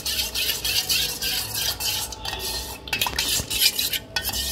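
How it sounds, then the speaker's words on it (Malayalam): A spoon stirs a cornflour and liquorice powder mixture in a bowl, with brisk, uneven scraping and clinking of metal against the dish, close and loud. "എന്നിട്ടിത് നമുക്ക് നല്ലപോലെ ഒന്ന് മിക്സ് ചെയ്യാം."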